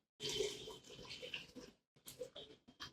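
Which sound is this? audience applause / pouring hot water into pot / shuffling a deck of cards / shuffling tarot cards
pouring hot water into pot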